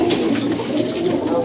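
Hobby pigeons coo in low, rolling warbles close by, a continuous throaty murmur with faint background hiss throughout, no speech.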